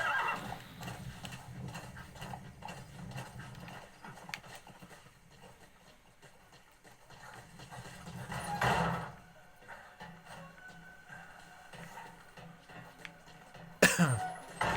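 A horse in the Metal Gear Solid V video game gallops in after a whistle, with rhythmic clip-clop hoofbeats, a whinny and snorts, and a sharp loud hit near the end.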